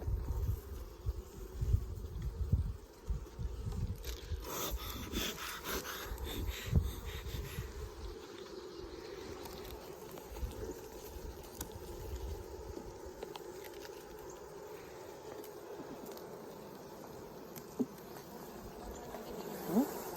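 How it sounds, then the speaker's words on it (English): Honeybees hum steadily close by at an open hive during inspection, a soft continuous buzz with occasional rustling and clicks. "Well, at least there's some bees in there."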